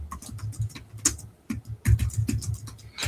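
Someone types on a computer keyboard in quick, irregular bursts of close, crisp key clicks with short pauses between runs. No one speaks.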